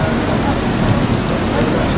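Heavy rain pours steadily in Mecca during the Hajj season, a dense, continuous hiss of downpour at constant loudness with no pauses.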